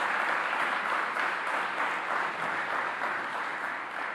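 Audience applause fills a hall at the reopening of a newly renovated youth palace, a steady, dense clapping that swells slightly and runs for several seconds without voices.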